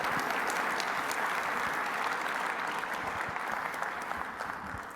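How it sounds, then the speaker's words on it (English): A conference audience at a concrete pavement talk gives steady, fairly dense applause throughout, even and moderately loud without voices. "you guys already beat me to asking for the round of applause"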